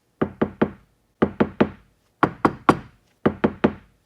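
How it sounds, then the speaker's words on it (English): Knocking on a car's sound-deadened front door: four groups of three dull, solid knocks, close and fairly loud, with nothing else audible. "this is the front door that is sound deadened"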